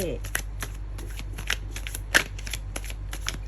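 Tarot cards being shuffled in rapid riffling bursts, with crisp slaps and a sharper snap near the middle, while a voice talks faintly underneath.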